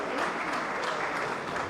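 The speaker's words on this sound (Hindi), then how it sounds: "इनके लिए भी जोरदार ताली बजनी चाहिए।" Audience at an Aam Aadmi Party oath-taking ceremony breaks into sustained applause, a steady, moderately distant patter of many hands clapping with no voices over it.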